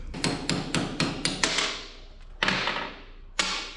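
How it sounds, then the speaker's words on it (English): A claw hammer bangs on a stuck part of a 1984 Chevrolet S-10 pickup, giving sharp metallic blows, five fast strikes in a row, then two more after pauses, close and ringing, no talk. "Claw hammer for the win."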